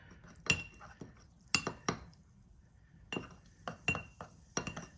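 A utensil stirs a paste of baking powder and warm water in a glass, making a string of light, sharp clinks against the glass, some in quick clusters and others spaced apart, with no talking.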